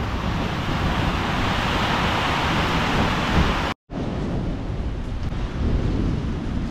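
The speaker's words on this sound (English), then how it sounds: "I think I survived the storm." Steady heavy rain pours down in a thunderstorm at an outdoor diamond mining wash station, a loud continuous roar with rumbling thunder, cutting out briefly for a fraction of a second before resuming.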